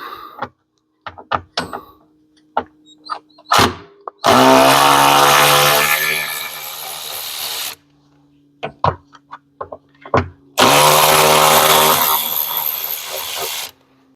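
A power tool drives Torx screws on an ATV clutch cover in two sustained bursts of loud whirring, separated and surrounded by sharp clicks and knocks of handling.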